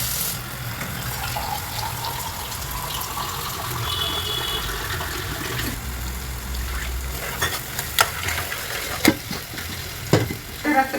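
Garlic fries in oil for chole, a steady moderate sizzle with stirring that turns into sharper clattering scrapes and splashes near the end.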